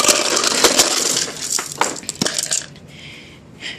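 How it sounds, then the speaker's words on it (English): Ice is scooped and clattered into a cup for iced coffee, a cluster of sharp crunchy rattles and clinks up close that thin out toward the end. "I'm gonna get a little bit of ice"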